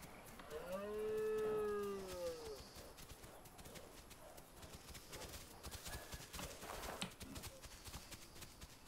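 A cow in the video game The Isle gives one long, loud, close moo, followed by steady clip-clopping hoofbeats and rustling movement.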